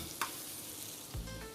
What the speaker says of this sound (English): Put in the chicken. Oh man, hear that sizzle.